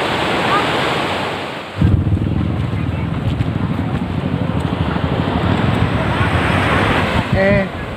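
Waves washing onto a beach, with wind buffeting the microphone and a continuous roar of surf, joined by a louder gust partway through and faint speech in the background.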